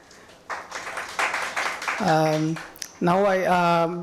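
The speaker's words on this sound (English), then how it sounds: "applaud yourselves for that" Scattered then building applause from an event audience clapping for themselves, picking up after a quiet start and then carrying on under a voice that begins talking over it partway through.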